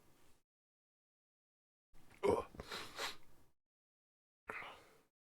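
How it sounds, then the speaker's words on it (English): A single person sneezes once, up close, with a short breathy build-up and a sharp burst, amid near silence with faint breaths before and after. "I'm gonna sneeze."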